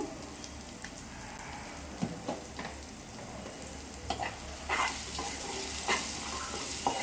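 Pepper, chaat masala and garam masala being stirred into food frying in a pan, with a soft steady sizzle and scraping stirs, moderately quiet with no talk.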